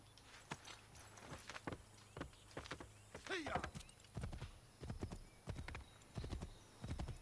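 A horse ridden in Assassin's Creed clip-clops along in a steady, even rhythm of close hoofbeats, with a short whinny partway through.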